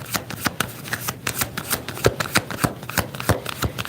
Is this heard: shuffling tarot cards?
yes